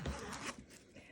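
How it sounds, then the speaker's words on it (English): A zipper is pulled closed on a small 35mm zip bag made with ribbon and vinyl, giving a short scratchy zip of about one second, fairly close and quiet, with no talking. "Close your zipper."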